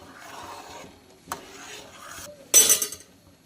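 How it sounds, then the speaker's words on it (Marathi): A spoon stirring rice kheer with masala in a pot over medium gas, brief close scraping and rubbing strokes with a metallic clink, ending in a sharper louder scrape, no talk. "मसाला घातल्यानंतर आपल्याला असं फिरवत राहायचं आहे"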